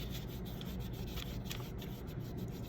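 Steady, soft rubbing of a Godhand Kamiyasu 10,000 grit sanding sponge across a surface being polished to a shine, a close, continuous abrasive hiss with gentle rhythmic strokes and no talking.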